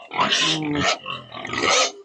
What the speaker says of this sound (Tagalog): Nagsyagita na po akong baboy